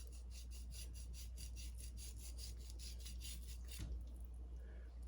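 Knife strokes trimming fat off a brisket on a farm, a steady run of about a dozen rhythmic rasping cuts, close and moderately loud, with no talk.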